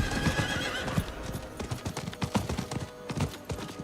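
A horse gallops along a road in the video game Diablo 4, its hooves clopping in a quick steady rhythm, close and clear, with a short whinny.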